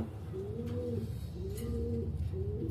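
Pigeons coo softly and repeatedly at a pigeon farm, three rolling low calls in steady rhythm against a quiet background.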